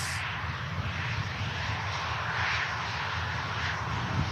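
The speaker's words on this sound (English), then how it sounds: "We have just got the Aer Lingus UK 330, and in front of that, the incredible 350 of Qatar Airways." Airliners at Manchester Airport, an Aer Lingus UK A330 and a Qatar Airways A350, produce a steady, broad jet-engine roar heard from a distance, continuous with no talking.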